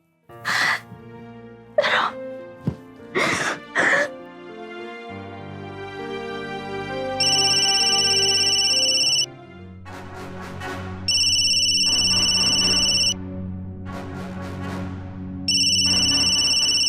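A phone rings with a bright synthesized ringtone: repeated tonal bursts in a looping pattern, loud and close, with several sneeze- or cough-like vocal bursts at the start before the ringing takes over.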